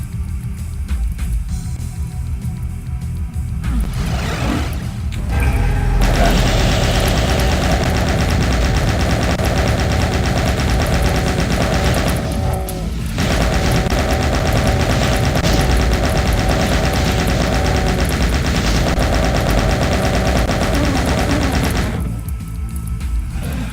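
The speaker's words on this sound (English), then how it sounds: "Well, I got a chain gun out of it, even if I lost all my ammo." Sustained rapid chain gun fire in a Doom map, loud and continuous for most of the stretch with brief drops, mixed with booming game effects and no talking.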